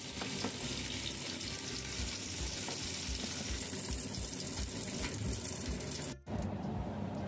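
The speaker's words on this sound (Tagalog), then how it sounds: "iprito po muna natin ang ating hipon. Prito po natin hanggang siya po ay magkita ang kulay" Shrimp fry in hot oil in a pan with a dense, steady crackling sizzle, close and continuous, broken only by a brief dip near the end.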